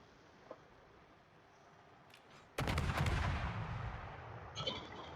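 Naval guns firing on a destroyer in World of Warships, a sudden loud salvo blast about halfway through that rumbles on with a sustained roar, followed by a further boom near the end over quiet ambient game sound.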